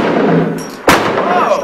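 A handgun fires a single sharp shot at an indoor range, loud and close, cracking out after a stretch of background noise and faint voices, then leaving a brief ringing tail.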